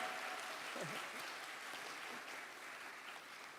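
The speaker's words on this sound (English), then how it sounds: "Give big applause from Malaysia." Audience at an academic nursing conference applauds steadily as a dense, even wash of clapping that holds throughout and tapers only slightly toward the end.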